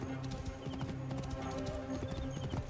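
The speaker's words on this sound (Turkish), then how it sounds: "Atın bayağı hızlı koşuyor yalnız ha." Horse hooves pounding at a gallop in Assassin's Creed Origins, a steady rapid clip-clop over game ambience and music, with an occasional neigh.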